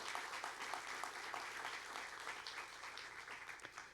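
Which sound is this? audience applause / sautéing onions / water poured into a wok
audience applause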